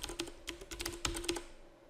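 Quick, light clicking of keys on a computer keyboard, a short irregular burst of typing heard close up and fairly quiet.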